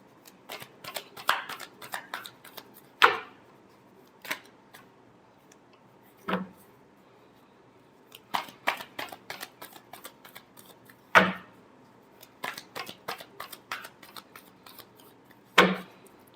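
A deck of tarot cards is shuffled over and over, giving quick bursts of fluttering riffles and clicking card slaps separated by short pauses, close by and fairly quiet, with no talking.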